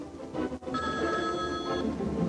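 A telephone rings with a steady electronic trill for over a second against a busy studio backdrop, during a comedy talk-show sketch.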